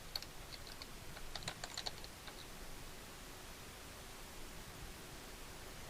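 Light keystrokes on a computer keyboard as a plugin name is typed, a short burst of clicks in the first two seconds before the room falls quiet, soft and close.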